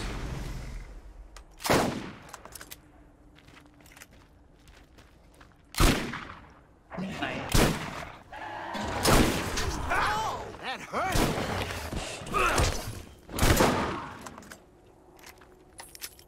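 Gunfire in Borderlands multiplayer, sharp loud shots and short bursts scattered through the stretch, some isolated cracks and some rapid clusters, with players talking between them.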